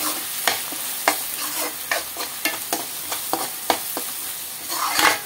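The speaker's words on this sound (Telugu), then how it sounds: "ఇదిగోండి కొంచెం 1 స్పూన్ కారం వేసేసుకొని ఒక్కసారి కలిపేసేసుకుందాం" Chili powder is stirred into a sizzling dhaba-style egg masala curry, the spoon scraping the pan in sharp, irregular strokes over a continuous frying hiss, close and fairly loud.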